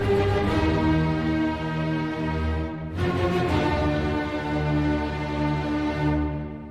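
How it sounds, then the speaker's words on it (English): A full orchestra plays the opening of Beethoven's Symphony No. 5, dense, sustained passages, with a brief break in the middle before the strings and winds surge back in. "Let's listen quickly to Beethoven's Symphony No. 5, just the opening."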